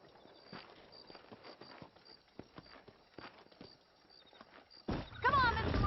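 Horse hooves clip-clopping at a walk in the Western video game Red Dead Redemption, a steady soft rhythm of light steps, ending in a sudden louder burst of game sound.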